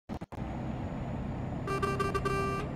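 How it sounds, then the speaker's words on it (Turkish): A truck horn in Euro Truck Simulator 2 blares in several short, bright honks near the end, over a steady engine rumble that follows a few clicks at the start. "Kornası da böyle bu arabanın."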